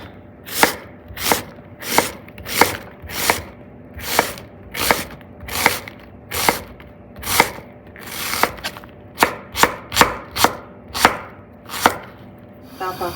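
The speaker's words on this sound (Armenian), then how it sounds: "այսպես կմանրացնեմ" A knife chops a large onion on a cutting board in a home kitchen, loud, close, crisp strokes in an uneven series of about twenty, speeding into quicker clustered cuts toward the end.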